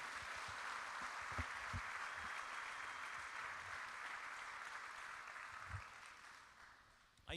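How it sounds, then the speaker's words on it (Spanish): Steady applause from a church congregation, filling the whole stretch at moderate distance, with a few low thumps underneath before it begins to fade at the end. "un aplauso para ellos de nuevo y para Jesucristo"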